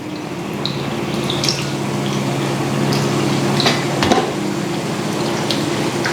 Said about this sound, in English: So I'm gonna rinse them with cold water here.